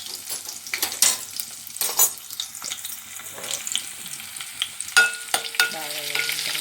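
Onions and curry leaves frying in a pan for a vegetable pulusu, a close crackling sizzle broken by repeated scraping stirs and spoon knocks against the pan, with no talking.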